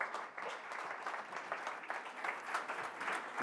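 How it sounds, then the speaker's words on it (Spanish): An audience at a conference applauds steadily, a dense, fairly quiet patter of clapping that holds for a few seconds. "Un aplauso, por favor."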